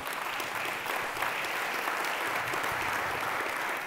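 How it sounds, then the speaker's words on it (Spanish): A church congregation gives a strong round of applause to the Lord during a sermon, a steady even wash of many hands clapping, fairly distant and consistent for the whole stretch with no voices on top. "Dele un aplauso fuerte al Señor."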